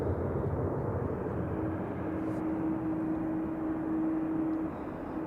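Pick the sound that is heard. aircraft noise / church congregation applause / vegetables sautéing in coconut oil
aircraft noise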